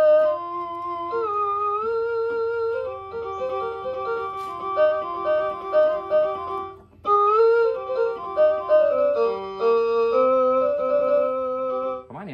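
Layered tone number 130 on a Pastel Siamkey1 keyboard, a mor lam instrument, plays a sustained melodic phrase of held chords and shifting notes, loud and close, with a short break near the middle and no talking.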